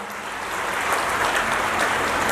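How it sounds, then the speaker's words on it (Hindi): Loud, dense welcoming applause from a devotional gathering at a Bhagwat Katha event in Hisar, continuous clapping filling the whole brief moment without speech. "जोरदार तालियों से स्वागत।"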